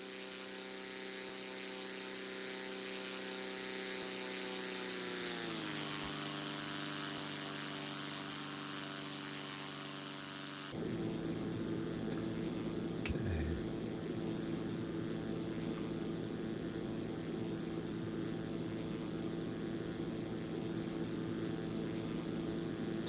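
A simulated Zlin Z-142 propeller aircraft in X-Plane 11 drones with a steady engine tone that shifts pitch midway, then settles into a rougher, louder, constant roar.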